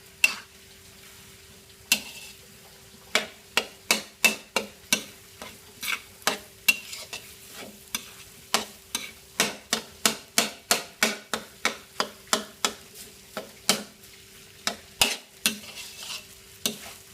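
Food stir-fried in a pan by a father cooking at home: a long run of sharp spatula clanks and scrapes in an uneven, busy rhythm, close and fairly loud over a faint sizzle.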